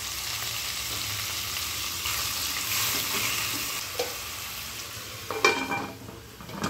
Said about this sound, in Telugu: ఇప్పుడు మనం మ్యారినేట్ చేసుకున్న చికెన్ వేసుకుందామండి.